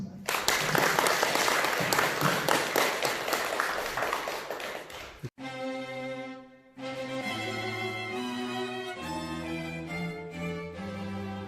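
Congratulatory applause for a newlywed couple in a Buddhist temple hall during a regular dharma service: a dense, loud crowd of clapping for about five seconds, then it cuts off and sustained music-like tones follow.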